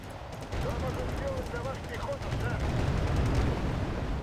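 Dense, rumbling battlefield gunfire and explosions fill a Wargame: Red Dragon match, a continuous roar of shots under a voice speaking.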